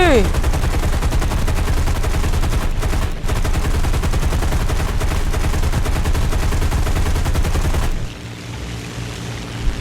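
Sustained rapid machine-gun fire from a War Thunder aircraft battle: dense, continuous bursts rattle loudly for about eight seconds, then cut off, leaving a lower engine drone.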